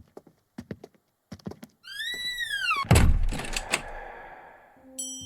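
A stuck interior door being forced, with a few light knocks and rattles, then a creaking groan and a heavy thunk as it gives, followed by scraping and a short squeak.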